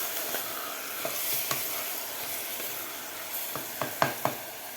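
Soaked rice stirred into hot masala for a cashew and green pea pulao, with a steady soft sizzle of frying spices and scattered spoon scrapes that grow sharper toward the end. No one speaks.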